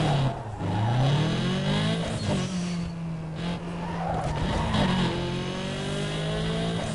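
An Audi engine drones steadily while driving in Need for Speed Underground 2, rising and falling in pitch with repeated tire skids and squeals throughout, loud and continuous.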